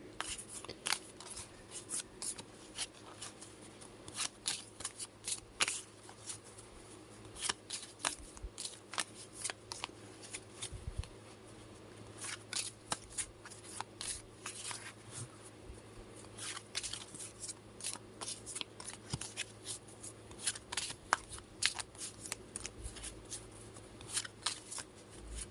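A deck of playing cards is shuffled by hand, with rapid, soft riffling snaps and crisp flicks repeating steadily and close by for the whole stretch, quiet and without talk.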